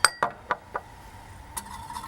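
A spoon stirs garlic powder, onion powder and seasoning salt in a bowl for Chex Mix, making a handful of sharp clinks against the dish at a quick, uneven rhythm before fading to quiet.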